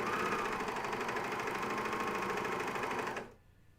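Steady whirring of a coverstitch machine hemming a curved pajama top, close and continuous for about three seconds before cutting out into quiet.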